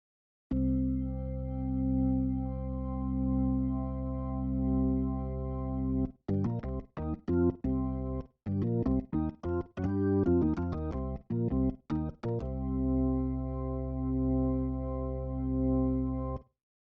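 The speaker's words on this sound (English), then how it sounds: "So now we have two different organ sounds at once on each manual." A sustained tonewheel organ chord with drawbars rings with rich, buzzy harmonics, breaks into a quick run of staccato notes, then settles back into a long held chord.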